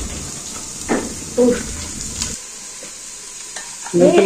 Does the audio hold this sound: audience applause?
no